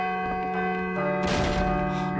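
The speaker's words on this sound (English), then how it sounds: "I should let the bell finish ringing first." A church bell tolls in Call of Cthulhu: Dark Corners of the Earth, a loud, resonant ringing tone sustained throughout, with a heavier struck toll partway through amid dense background sound.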